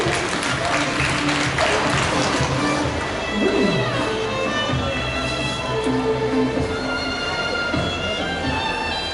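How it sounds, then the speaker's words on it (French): Crowd applause for a 16-year-old horse at an equestrian show, continuous clapping with music-like tones mixed through it, fairly loud and sustained. "On peut l'applaudir parce que cheval de 16 ans ici."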